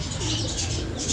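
Pigeons cooing nearby in a household setting with caged birds, soft low repeated coos over a steady background hum, no talking.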